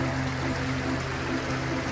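Water trickles steadily down a model Splash Mountain waterfall on a home Disney display, a continuous soft stream mixed with a low mechanical hum, close and even throughout.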